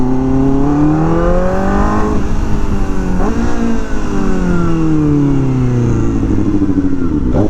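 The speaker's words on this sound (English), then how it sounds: "Revving a small motor like this to the moon." A Kawasaki ZX4RR small four-cylinder motorcycle engine revs hard, pitch climbing and falling in sweeping waves across several throttle pulls, loud and close throughout with no talking.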